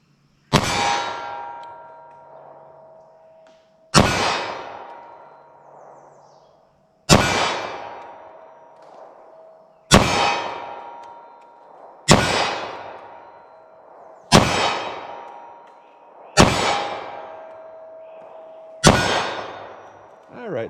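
Eight .45 ACP+P Corbon DPX pistol shots fired from a short barrel at targets about 42 feet away, each a sharp crack followed by a long ringing metallic clang that fades, spaced roughly every two to three seconds.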